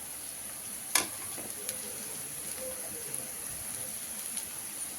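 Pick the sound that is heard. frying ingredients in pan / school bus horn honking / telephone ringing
frying ingredients in pan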